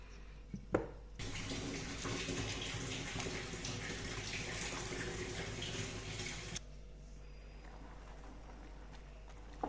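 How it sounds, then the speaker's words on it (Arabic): Hot water pours steadily into a cooking pot holding fava beans and turmeric for stewed ful, a continuous splashing stream lasting about five seconds, fairly close, with quiet kitchen surroundings before and after. "محتاجه كمان ميه هضيف لها"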